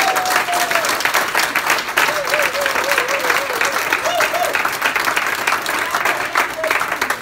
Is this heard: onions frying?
no